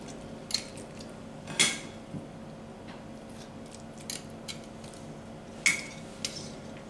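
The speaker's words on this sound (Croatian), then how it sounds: "nakon što sam stavila u jednu tepsijicu, rasporedit ću normalno batake i karabatake" Chicken drumsticks and thighs are set into a small baking tray, leaving sparse close clinks and light metallic taps against a quiet room background, with no speech.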